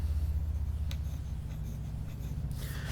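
A fountain pen with a freshly ground cursive italic nib scratches across paper in short close strokes, soft rhythmic scraping over a low steady hum, with no talking.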